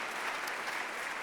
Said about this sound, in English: Give them both a huge round of applause.